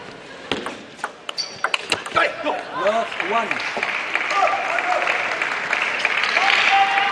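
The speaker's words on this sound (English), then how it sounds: "Some interesting timing from the crowd here on when to chant, when to cheer." Crowd at a 2014 China Open men's singles quarterfinal table tennis match, with scattered claps and ball pings at first, then swelling cheers and sustained applause that grow louder toward the end, with a voice briefly heard over them.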